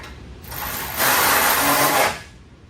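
A hand ratchet tightens new zinc-coated bolts while old parts go back onto a high-mileage Lexus, a short quiet lead-in swelling into a loud, close burst of rapid clicking that stops after about a second.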